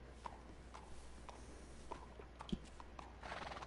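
A horse in Red Dead Redemption on PS4, with soft hoof clops and shuffling steps at a walk, faint and sparse, plus a brief snort near the end over quiet ambient game sound.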